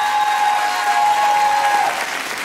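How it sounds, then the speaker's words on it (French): Dense, loud applause from an audience in an amphitheatre at the Miss Moselle 2013 beauty pageant, a sustained burst of clapping that tapers slightly at the end. "sous les applaudissements de l'amphi"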